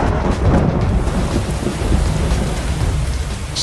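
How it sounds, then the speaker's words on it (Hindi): Rain showers fall over quiet suburban streets, a steady hiss of drops on surfaces with low rolling thunder rumbling through, fairly loud and unbroken, no voices. "शांत उपनगरीय गलियों में बारिश की फुहारें गिर रही है"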